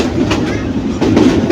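A local commuter train in motion rolls along with a loud, close rumble and rhythmic clickety-clack of wheels over rail joints, heard from inside the carriage with no talking.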